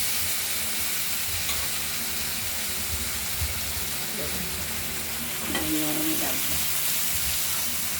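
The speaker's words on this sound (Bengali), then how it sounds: "বটবটি ভাজা হয়ে এসেছে" Yard-long beans fry in oil in a pan with a constant dense sizzle and hiss, and a brief stirring scrape near the end.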